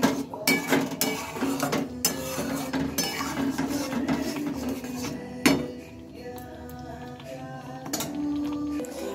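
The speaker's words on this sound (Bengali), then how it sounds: "এটা একটু ভালোভাবে নেড়ে চেড়ে নেব" Curry masala is stirred in a pan with repeated scraping and clinking of a metal spatula against the pot, irregular knocks over a soft background sizzle, close and moderately loud, no talking.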